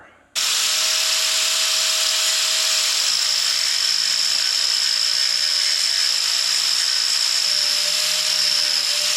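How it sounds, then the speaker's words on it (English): A power grinder bites into metal on a truck's front axle, starting abruptly and holding a loud, high, continuous whine close by for the rest of the stretch. "So we got to grind a little more out of there."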